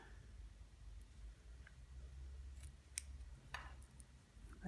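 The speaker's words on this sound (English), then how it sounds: "I am going to trim off these little ends here." Scissors trim the loose ends off a kumihimo beaded bracelet braid, giving a few faint, sparse snips over a low steady background hum.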